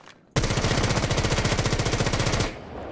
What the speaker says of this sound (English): As you start shooting, you aim bottom left.